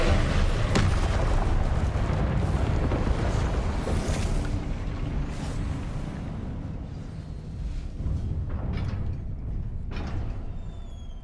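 Heavy booming blasts of Confringo spell explosions in Hogwarts Legacy, loud rumbling impacts packed together at first and then thinning out as the din fades, with no talk over them.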